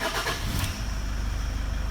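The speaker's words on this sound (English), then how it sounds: "So then when you start the car" A car engine cranks and catches, then settles into a steady low idle hum.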